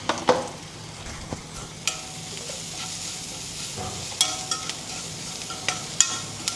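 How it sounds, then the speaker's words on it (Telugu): Onions with a little salt browning in a pan for cluster bean curry, a soft steady sizzle broken by intermittent spoon knocks and stirring scrapes, fairly quiet and close, no voices. "కొంచెం సాల్ట్ వేస్తున్నాం ఆనియన్స్ వేగటానికి"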